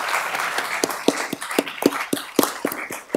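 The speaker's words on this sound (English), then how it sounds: "how about a big round of applause for this?" A community forum audience on California drought conditions claps: fairly loud, fast, rhythmic clapping with distinct individual hand claps, like a small group applauding at close range.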